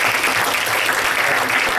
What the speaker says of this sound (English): So let's give Milos a warm round of applause and welcome.